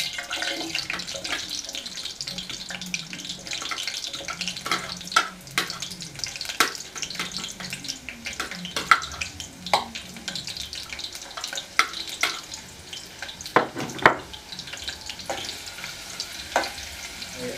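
Onion frying in a pan for ugali, spicy meat and sukuma wiki, with a soft continuous sizzle broken by intermittent scraping and stirring clatters close by.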